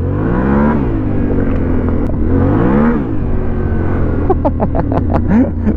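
An off-road motorcycle on a trail revs and accelerates up close, engine pitch rising and falling in repeated surges, then a run of sharp, rapid bursts near the end.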